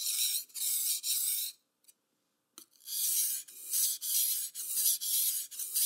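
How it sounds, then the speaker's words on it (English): A knife edge is drawn across a sharpening stone in repeated close, hissing scraping strokes, with a short pause partway through before the strokes continue. "A common sharpening stroke is to run the edge of the knife into the stone like this."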